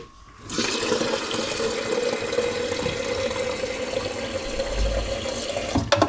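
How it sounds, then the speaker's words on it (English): Water gushes steadily from a kitchen tap after it is turned on, a loud, even rush that runs without pause until a few clinks at the end. "I should have some hot water running."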